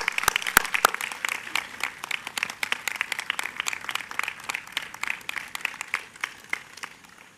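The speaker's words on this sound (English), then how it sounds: "Let's give a round of applause for Archbishop Laurie." Audience at a Catholic school grand opening and blessing ceremony in Baltimore claps for the archbishop, sparse sharp individual claps over a moderate steady patter, fairly close, with no speech.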